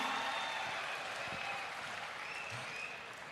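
An audience at a public speech applauds, a steady wash of clapping from a large crowd that slowly fades toward the end.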